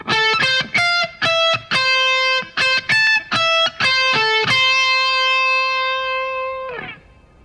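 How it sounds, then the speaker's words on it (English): Distorted electric guitar plays a quick phrase of distinct, evenly pitched notes, ending on a long sustained note that rings out and cuts off. "I just played the notes straight. I did not use any bends."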